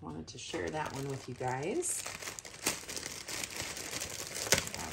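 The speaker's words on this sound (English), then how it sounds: "sorry for the plastic noise" Plastic packaging for papercraft stamps and dies crinkles and rustles close to the mic, sharp irregular crackles running under and after a woman's speech.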